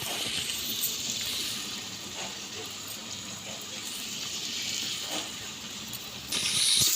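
Running water pours in a steady, fairly quiet gush from a tap, swelling louder just before it ends.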